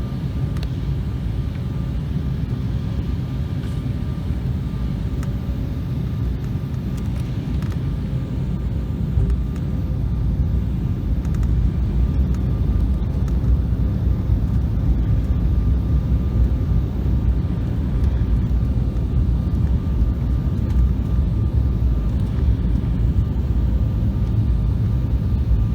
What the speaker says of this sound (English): enjoy our landing to our first time here at Dallas-Fort Worth